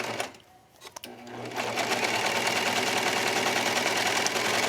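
A serger sewing machine finishing the edge of slippery fabric starts up after a short pause and then runs steadily at high speed, a dense, continuous mechanical whir close by.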